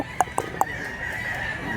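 A rooster gives three short, sharp calls in quick succession, followed by a steady background hum with no further calls.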